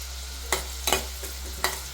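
Onions fry in hot oil in a pot, a soft steady sizzle punctuated by three or four sharp scraping stirs of a spoon, close by and without voices.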